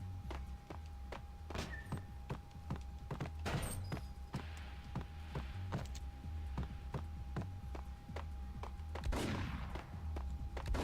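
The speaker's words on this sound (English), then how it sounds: "Who is shooting at me?" Scattered gunshots in Max Payne aimed at the player, sharp intermittent cracks repeating irregularly over a steady low ambient hum, fairly quiet overall.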